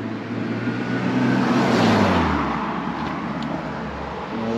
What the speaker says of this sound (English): So these cars get past.